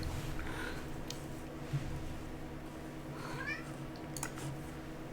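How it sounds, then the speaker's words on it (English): A pet cat that has just woken up gives a few faint, short meows, somewhat distant and under a steady background hum and low game sounds. "you woken up, cat?"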